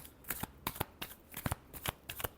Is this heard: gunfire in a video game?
no